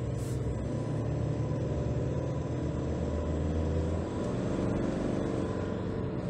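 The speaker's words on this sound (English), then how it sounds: "you can hear the diesel engine" A big 2022 Nissan Navara Pro-4X pickup's diesel engine runs steadily, a low, even rumble heard from inside the cab with no talking over it.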